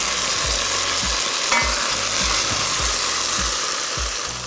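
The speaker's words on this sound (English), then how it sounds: "Once the onions are lovely and brown like this, I'm going to add my tomatoes." Plum tomatoes going into browned onions in a hot pan for a marrow curry, a steady close sizzle with repeated low scraping thuds of stirring running underneath.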